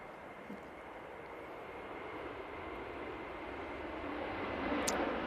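An Airbus A321-200 airliner rolls for takeoff at Manchester Airport, heard from a distance as a broad jet roar. It builds slowly and steadily with no voices over it.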